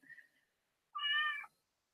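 A house cat gives a single clear, fairly loud meow indoors, preceded by a faint short chirp, with silence around it.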